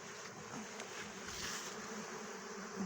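Honey bees flying around an open hive frame, a steady dense buzzing swarm close by, continuous and fairly loud throughout with no voices.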